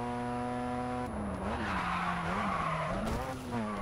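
A race car in the video game Grid 2 roars steadily up close, its engine pitch rising and dipping through gear changes, with tyres skidding and squealing continuously underneath.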